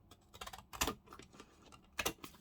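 Scissors cut paper for a Tim Holtz junk journal photo mini foldout: two crisp, close snips a little over a second apart, with soft paper rustles and small clicks between them, quiet overall.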